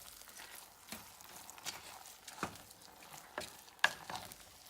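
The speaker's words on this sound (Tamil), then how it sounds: "இப்போ நல்லா கிளறுவோம்." Cooked ven pongal is stirred in a pot, giving soft scraping strokes and gentle thick bubbling at a low, quiet level, with faint occasional clicks and no voices.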